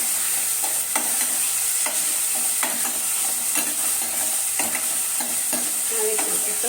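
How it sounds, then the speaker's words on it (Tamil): Tomatoes, chilli and curry leaves sauté in a pan for an appam gravy, a constant sizzle cut by repeated rhythmic scraping strokes of a spoon stirring the mixture. "தக்காளியும் போட்டு நல்லா வதக்கி விடுவேன்."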